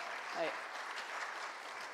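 An audience claps at a community fish fry gathering, with steady, dense applause filling the whole stretch at moderate volume and a brief voice near the start.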